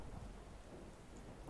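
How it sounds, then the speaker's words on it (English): Rain and thunder in the psychological horror video game Fractured Minds: a dense, steady hiss of falling rain over a low rumbling roll of thunder, heard alone with no speech. "Oh no, it's raining."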